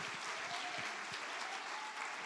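Audience at a church conference clapping together, a dense steady patter of many hands throughout, moderately loud and fairly distant.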